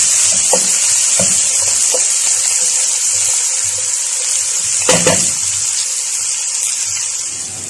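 Onions fry in a pan with a loud, continuous bright sizzle, broken by a few scraping stirs and clinks of a utensil, close by and without talking.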